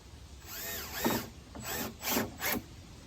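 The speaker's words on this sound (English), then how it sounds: "take just 4 screws this time and screw that piece on in there" Screwdriver or drill driving screws into a wooden bat house piece, a few short whirring bursts with brief pauses between them, close and moderately loud.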